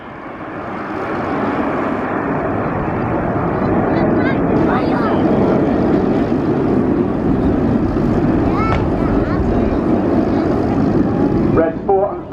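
Red Arrows jet aircraft roar through a flying display at the RIAT air tattoo, a loud, sustained rumble with wind buffeting, while a commentator talks over the noise.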